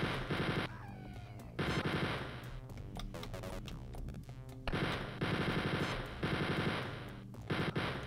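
Machine gun fire in the Wolfenstein 3D video game, loud rapid bursts of retro digitized shots repeating in several volleys with short pauses between them.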